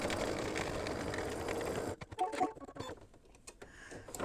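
An embroidery machine runs a stitch on an in-the-hoop Valentine tealight cover, with a steady rapid mechanical patter for about two seconds, then stopping into quieter scattered taps and handling noises.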